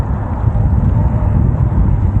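Strong wind at a roadside stop in central Canada buffets the microphone with a constant, loud, low rumble that has no breaks and no voices over it.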